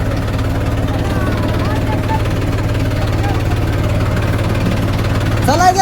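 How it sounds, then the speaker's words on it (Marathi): A tractor engine idles and chugs close by at a village fair, a loud low steady throb with regular pulsing that runs throughout, with faint voices in the background and a brief rise near the end. "तर आता आम्ही ट्रॅक्टर घेऊन चाललो या"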